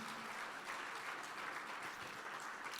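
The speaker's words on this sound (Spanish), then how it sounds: "Fuerte ese aplauso de alabanza al Señor." A church congregation applauds in praise, producing a continuous, even roar of many hands clapping together, moderately quiet and sustained without pause.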